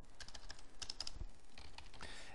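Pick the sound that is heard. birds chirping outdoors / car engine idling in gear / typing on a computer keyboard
typing on a computer keyboard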